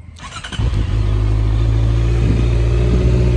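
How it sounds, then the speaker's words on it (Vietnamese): A Honda CB650R motorcycle engine cranks and fires up, then settles into a loud, steady, deep exhaust rumble at close range. "Nổ máy cho anh em nghe cái tiếng bô của nó"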